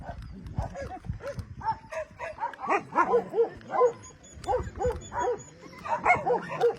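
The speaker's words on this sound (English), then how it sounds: "So this is the 7 new puppies." Seven puppies eat their first meal at a shelter, giving a busy run of small yips, whimpers and high squeaky cries, close and overlapping in quick bursts.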